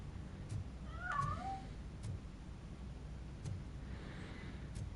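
A cat meows a couple of times near the start, fairly close, in the video game Robocop: Rogue City, then only quiet background hum follows.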